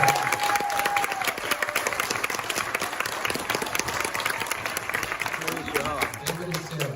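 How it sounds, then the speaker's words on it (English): Big round of applause at a film premiere, a loud dense crowd clapping with scattered cheers that carries on steadily for several seconds, a voice briefly audible near the end. "So give them a big round of applause"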